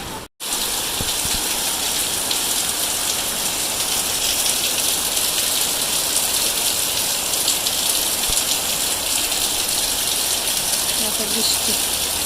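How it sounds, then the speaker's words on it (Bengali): Heavy night rain pours down steadily and loudly in a dense, unbroken hiss of drops hitting surfaces close by, after a brief silent gap at the very start. "একটু ভাত বসালাম আর বৃষ্টি নামছে, দেখো কি জোরে"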